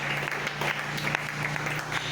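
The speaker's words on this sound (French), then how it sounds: "Acclamez pour la parole du Seigneur." A church congregation applauds steadily throughout, a dense continuous clatter of many clapping hands filling the space at even volume from start to finish.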